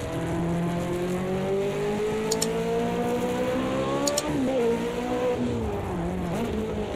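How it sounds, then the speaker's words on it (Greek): A single-seater race car engine in a racing video game, a loud continuous whine climbing steadily in pitch through the gears, then dropping and wavering, with faint brief clicks above it and no talk. "Αλλά με ένα πάρα πολύ ωραίο μονοθέσιο."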